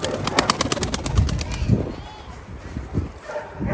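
Pigeons flutter and coo nearby, with a quick run of wing flaps early on, then softer scattered bird sounds and rustling.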